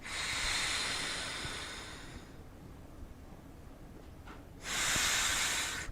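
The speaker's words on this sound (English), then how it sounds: "So when I breathe in" A slow, deep breath drawn in by someone demonstrating breathing for COPD, a long airy hiss lasting about two seconds, then a pause and a second strong inhalation starting, close and fairly loud with no talking.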